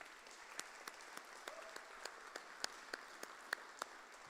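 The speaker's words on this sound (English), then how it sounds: "How about some applause for both Roxanne and Julie?" Applause for performers at the Treaty reconciliation concert, a soft, distant wash of clapping with sharper individual claps popping out now and then, fairly faint and steady without a clear ending.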